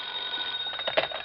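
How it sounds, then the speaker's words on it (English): Telephone ringing in a vintage radio detective drama, a steady electric bell tone with a brief louder burst near the end, heard alone in the room. "Hey, pick that other phone off the hook"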